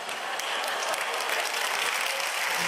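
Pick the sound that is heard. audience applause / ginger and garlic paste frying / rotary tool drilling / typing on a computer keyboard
audience applause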